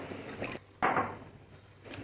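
Soaked chana dal drained from its water, a brief wet slosh and pour with a soft clink against the bowl, quiet and close.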